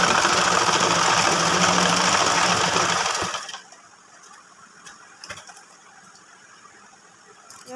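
A sewing machine runs continuously for about three seconds, stitching the elastic casing of a baby frock, then stops, leaving only faint handling clicks.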